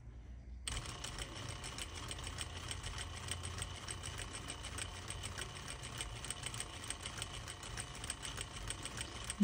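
A sewing machine stitching a 1x1 hem in fabric starts after a brief silence, then runs steadily with a rapid, even mechanical chatter, fairly quiet and close, with no talking.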